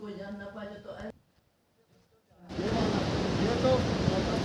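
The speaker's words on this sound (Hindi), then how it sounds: "ये है सरस्वती नदी" Rushing water of the Saraswati river at Mana village rises after a brief silence as a steady, loud broadband roar, preceded by a short stretch of voice.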